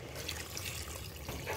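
Hot water poured from a separate vessel into a pot of spicy chicken curry, a steady close splashing and gurgling pour that runs unbroken and fairly loud for the whole moment, with no voices.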